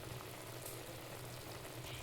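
Chicken fry cooks uncovered in a pan while its released juices boil away, giving a steady, close, crackling sizzle and bubbling without any voices.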